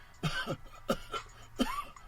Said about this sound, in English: a rough cough, I'm just playing that for a moment